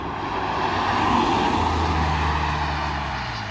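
A new BMW M3 and older cars driving past on the Nürburgring, a steady broadband roar of engines and tyres with a deeper engine drone building midway, heard from trackside without talk.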